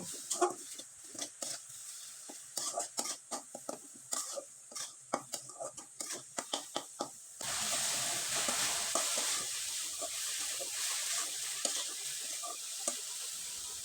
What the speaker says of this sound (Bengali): কড়াইয়ে আমি নারকেল কোরানোটা আর গুড়টা দিয়ে দিলাম এবার খুব ভালোভাবে নেড়েচেড়ে একবারে শুকনো শুকনো করে নারকেলের পুরটা আমি তৈরি করে নেব